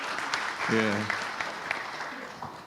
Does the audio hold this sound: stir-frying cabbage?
no